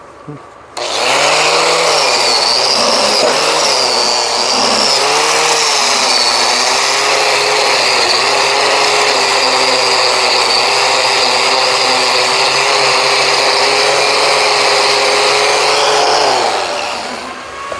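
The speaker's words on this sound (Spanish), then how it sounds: "Vamos a gratear la soldadura, pulidora con grata." An angle grinder fitted with a cup wire brush cleans a weld on a broken Eaton 16-spline axle shaft, a loud sustained whirring and scrubbing that starts after a second and runs steadily before winding down at the end.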